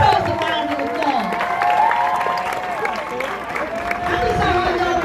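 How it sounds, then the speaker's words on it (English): A Black Lives Matter protest crowd outside Bob Kroll's home gives itself a round of applause, with clapping, cheering and scattered whoops and voices rising together outdoors. "Now, give yourselves a round of applause."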